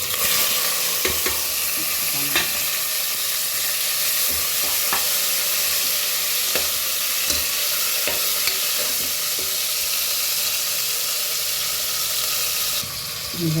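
Onions for chicken biryani roast in a pan, giving a loud, constant frying hiss close by, with intermittent spoon scrapes and taps throughout.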